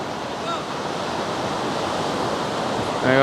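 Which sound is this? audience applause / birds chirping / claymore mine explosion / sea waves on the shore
sea waves on the shore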